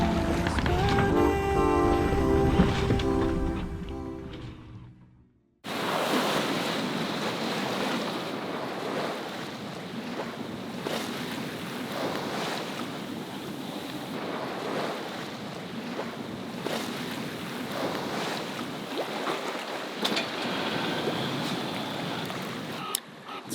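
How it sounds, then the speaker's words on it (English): Wind and waves wash steadily around an all-electric sailboat crossing the open sea near the south end of Haiti at night, a broad continuous roar with gusting wind buffeting the microphone, after a brief burst of other sound at the start. "It's been calm. Wind's kind of picked up a little bit"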